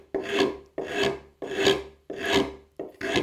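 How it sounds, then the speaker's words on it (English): Hand rasp cutting across the grain into a corner of rough-sawn wood, five even, close, rough strokes, each a coarse scraping rush with short pauses between. "I would rasp into this corner"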